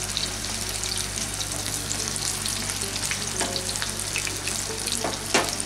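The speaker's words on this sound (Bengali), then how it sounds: "এগুলোকে আমি বাদামি করে ভেজে নেব।" Stuffed flat beans fry in a pan, a steady loud sizzle with occasional crackles and a clink near the end, no voices.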